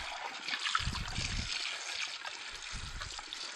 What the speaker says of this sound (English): We'll just rinse that right out.